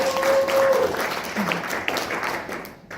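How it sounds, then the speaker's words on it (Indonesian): Audience at a multi-level marketing seminar clapping for the director, a brief muffled burst of applause that fades out, with a tonal hum near the start. "Tepuk tangan buat Bapak Direktur kita."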